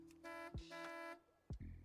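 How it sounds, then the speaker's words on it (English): A car horn in a video game honks in three separate toots, the first two bright and close together and the third lower, with sharp thumping clicks between them. "All right, I can honk again."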